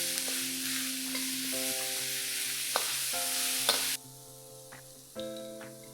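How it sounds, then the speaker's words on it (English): Minced pork stir-frying in a pan, a steady close sizzle with scraping and stirring, running under persistent background music tones throughout. "Fry the pork till it turns white."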